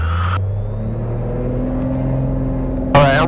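A Cessna 182 with a 265-horsepower engine runs at takeoff power, a loud, steady droning roar with strong low harmonics and a brief higher burst near the end.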